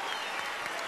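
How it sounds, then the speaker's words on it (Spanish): A large crowd at the Viña del Mar festival concert applauds loudly and continuously, a dense wash of clapping filling the whole moment with no break. "Fuerte, fuerte el aplauso."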